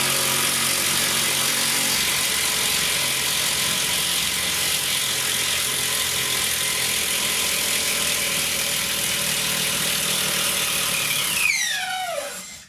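A Makita 40V impact wrench hammers steadily at mid-torque while removing a bolt, a loud continuous rattling whine that holds throughout and then winds down with a squealing spin-down at the end.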